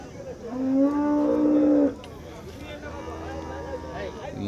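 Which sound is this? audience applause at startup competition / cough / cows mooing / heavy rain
cows mooing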